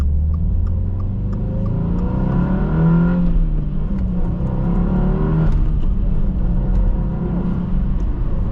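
A 2022 Subaru WRX engine revs hard and climbs in pitch under full throttle, dipping briefly at a gear change before pulling up again.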